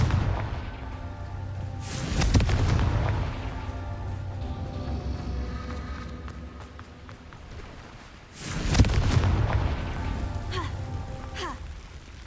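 Two booming Confringo explosion blasts in Hogwarts Legacy, one near two seconds and another near nine, each a loud broadband burst over a low rumbling game ambience with crackling debris tails.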